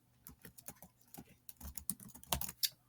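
Rapid, uneven keystrokes on a computer keyboard while filling in spreadsheet cells, close and fairly loud, with dense bursts of clicks and no talking.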